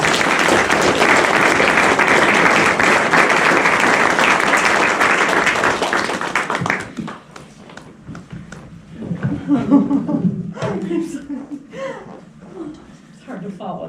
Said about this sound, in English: So could we give Diane a round of applause?